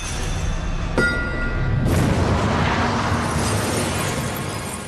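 A World War II grenade blast is heard as a loud, deep boom with a sharp onset and a rumbling, debris-like roar that fills the rest of the moment.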